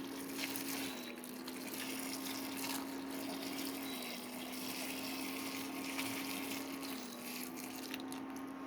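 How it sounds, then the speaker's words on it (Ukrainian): Hot sugar syrup pours onto 2 kg of gooseberries in a steady, faint liquid stream with a constant hum beneath it; nobody speaks. "І тепер оцим сиропом я заливаю 2 кг крижовника."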